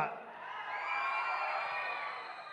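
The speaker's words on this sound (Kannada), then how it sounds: "ಈ ವಿಸಲ್ಲು ಚಪ್ಪಾಳೆ ಈ ಕೇಕೆ ಇಲ್ಲ ಅಂದರೆ ಯಾವ ಫಂಕ್ಷನ್ನೇ ಅಲ್ಲ" Crowd at a Kannada film meet-and-greet event cheering, whooping and whistling continuously, a loud sustained wall of voices with no distinct speech.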